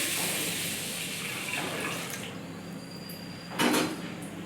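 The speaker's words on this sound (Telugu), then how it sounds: "దీన్ని మనం ముందుగా శుభ్రంగా కడుక్కోవాలి" Lentils and rice are washed in water in a kitchen, a close, continuous sloshing and swishing of grains in a vessel, with a louder splash and clink of the pot near the end.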